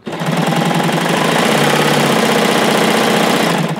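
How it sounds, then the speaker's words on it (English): A Baby Lock serger runs steadily with no fabric under the presser foot, a loud continuous mechanical whir and rapid chatter holding constant for the full length without pause. "So I'm just going to serge with no fabric underneath my presser foot."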